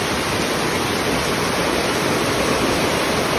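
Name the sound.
floodwater flowing at a rural bridge during Typhoon Uwan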